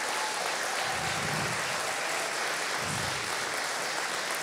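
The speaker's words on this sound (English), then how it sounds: "Should we clap?" Congregation at an All Saints' church Christmas carol service clapping for Martin's birthday, a steady hiss of many hands filling the room at moderate level, with no voices over it.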